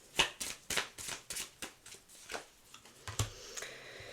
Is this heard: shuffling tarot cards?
yes